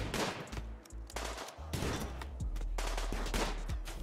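Gunfire in the video game Rimworld: loud, rapid bursts of shots and machine-gun fire clustered in quick volleys with short gaps, heard alone without talking.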